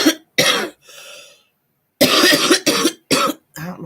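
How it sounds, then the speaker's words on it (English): A woman coughs in a series of harsh, close bursts: two quick coughs, a softer rasping one, a pause, then four more coughs in fast succession. No talking. "don't know why I'm coughing."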